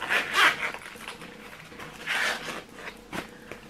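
A zipper on a wallet is pulled open in a few quick rasping strokes, two longer zips and a short one, close and clear with no talking.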